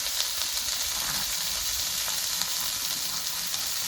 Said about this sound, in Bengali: তেলটা গরম হয়ে গেছে এবার বাঁধাকপিগুলো তেলের মধ্যে দিয়ে দেবো